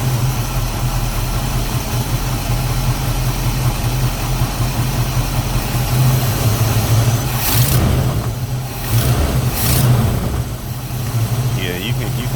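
A Chevrolet Caprice engine with a knocking fault idles close by, a loud, steady and continuous rumble with a slight rise in pitch partway through.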